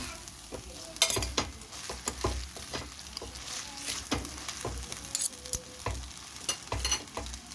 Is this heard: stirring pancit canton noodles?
yes